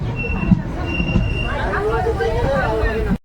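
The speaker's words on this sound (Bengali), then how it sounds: "কাশিমবাজার রেল স্টেশনে এসে পৌঁছলো ট্রেন" The Azimganj MEMU passenger train pulls into Kasimbazar station, its wheels rumbling and squealing up close while platform voices murmur underneath, ending with an abrupt cutoff.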